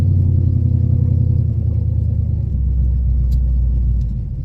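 Deep, loud rumble from a 1970 Chevelle's engine inside the car as it pulls through the gears, with a low drone and a pitch shift partway through.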